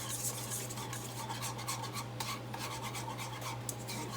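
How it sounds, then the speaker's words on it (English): Homemade mac and cheese sauce stirred in a pot: continuous soft scraping and rubbing of a utensil in rhythmic strokes over a steady low hum, quiet and close. "Keep stirring and stirring and stirring."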